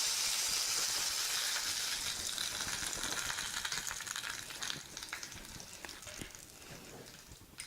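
Loud, steady sizzling as a hot oil tempering is poured into cooked lentils for Odia dalma, a bright hiss that gradually softens and fades over several seconds, with faint stirring clinks.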